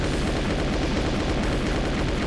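A chaingun in Doom II fires in a dense, unbroken rapid stream, loud and close, with no pauses across the short burst.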